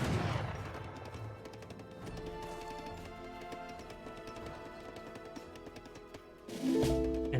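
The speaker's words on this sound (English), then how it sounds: "So now the Gatling guns are fully automatic." Rapid automatic Gatling gun fire in a real-time strategy game battle, a dense continuous rattle of shots with a louder burst near the end.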